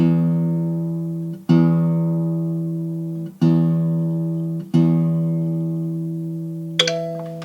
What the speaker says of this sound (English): I simply keep playing my low E and turning my tuning peg